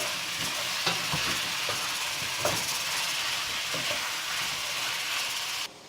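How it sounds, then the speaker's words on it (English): Chopped tomatoes, two of them in small pieces, sizzle and hiss steadily in a pan while cooking down for rajma masala, with occasional faint clinks of stirring over a continuous close frying noise. "I'm adding 2 tomatoes cut into small pieces. And let's cook the tomatoes for 5 more minutes"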